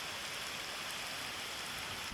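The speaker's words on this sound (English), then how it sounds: "we have the first rain." Steady rain pours down in rural Brazil, the first rainfall after seven dry months, a dense, even hiss of drops with no voices.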